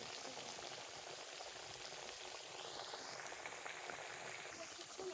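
Suji kakara pitha frying in hot oil, a steady, fairly quiet bubbling sizzle that continues evenly throughout with no break.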